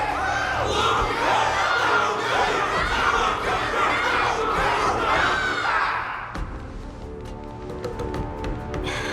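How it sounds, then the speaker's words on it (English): A large crowd cheers and shouts in a battle arena in the video game Honkai Star Rail, loud and sustained for six seconds before fading into quieter game ambience. "Can't you hear? Everyone's cheering for you, Luca!"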